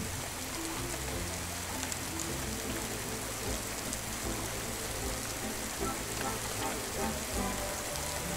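Steady desert storm rain falls continuously, a dense even hiss of drops on surfaces with no voices, filling the whole stretch at a constant level.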